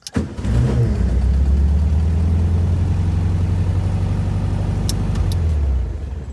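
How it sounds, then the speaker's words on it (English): A VW Thing's air-cooled engine, hot after a hill climb, cranks and catches, then settles into a loud, steady idle close by, running evenly for several seconds before easing off at the end. "Let's see if it starts up."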